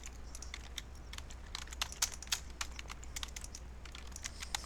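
Rapid, irregular clicking of a computer keyboard being typed on, with occasional sharper clicks, steady and fairly faint over a low electrical hum.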